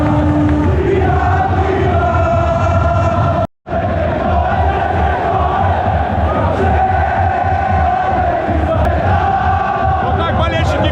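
Beitar football fans chant in a massive, continuous stadium roar at the start of a match, loud and sustained with rhythmic voices, broken only by a brief dropout.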